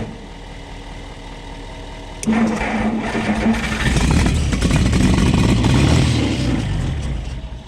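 The engine of a 1960 Bombi tank cranks on its starter, a steady grinding churn that kicks in suddenly and keeps going for several seconds, close and fairly loud, with people talking faintly.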